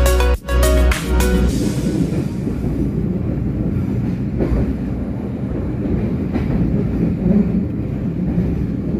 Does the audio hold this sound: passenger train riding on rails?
yes